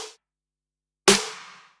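Layered snare drum samples from an electronic track's drop hit together: the tail of one hit fades at the start, then after a silent gap a single loud, punchy crack rings out and decays over half a second.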